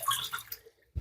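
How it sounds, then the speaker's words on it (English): Lentils swished and rinsed in a bowl of water, a soft watery sloshing for most of a second, then a brief low splash at the end, fairly quiet. "you basically wash the lentil very clean, like until the water is clear"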